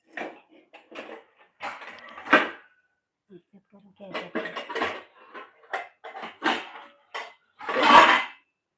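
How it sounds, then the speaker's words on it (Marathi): Metal utensils and pots clatter and clank in a series of irregular bursts, close by, with quiet gaps between the knocks. "भांड्यांचा आवाज परत इलो"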